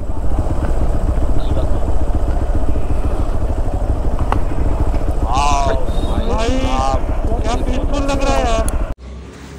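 Motorcycle engine running steadily and loud, with wind buffeting, on a coastal road in Konkan before it cuts out; a voice talks over it.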